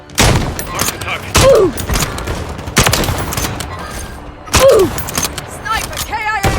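Sniper rifle shots ring out in Call of Duty Warzone, loud and sharp, with a few sudden bursts spread over several seconds and a comical impact sound on a hit, set among other game effects.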